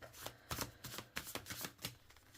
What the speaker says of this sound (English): So overhand shuffle is good.